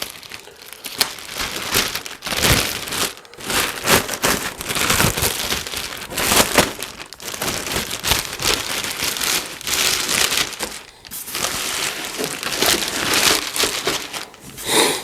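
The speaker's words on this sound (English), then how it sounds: "Let's go ahead and pull this plastic off and get inside" Crinkly plastic wrapping is pulled and torn off a Stack-On fireproof safe, a near, continuous rustling with bursts of crackle and brief pauses, no voices.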